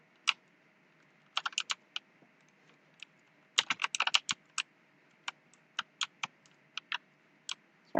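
A naturally loud computer keyboard clatters with crisp, irregular keystrokes, bursts of rapid typing broken by single taps, close and clear against a quiet room.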